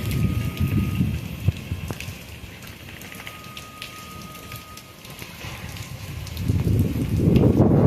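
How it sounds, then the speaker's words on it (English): Strong wind roars in loud gusts during a thunderstorm behind a house, heavy at first, easing to a quieter rush, then surging again near the end. "It's very windy."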